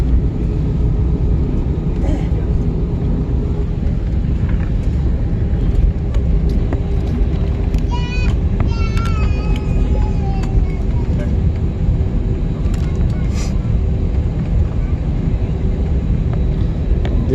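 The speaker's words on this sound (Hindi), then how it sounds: "जहाज चल रहा है, धीरे धीरे उड़ने के लिए" Airplane engine as the aircraft taxis slowly before takeoff, heard from inside the cabin as a loud, steady low rumble, with a few brief faint tones partway through and muffled voices in the background.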